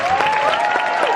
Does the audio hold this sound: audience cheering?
yes